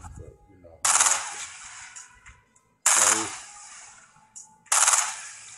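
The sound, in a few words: SCAR assault rifle firing in Fortnite video game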